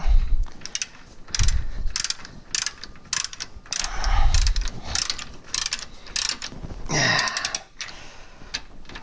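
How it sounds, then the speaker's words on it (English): A ratchet tightening a nut on a Chrysler Town and Country rear shock, sounding as repeated bursts of quick metallic clicks with short pauses between strokes, close and fairly loud. "And your ratchet."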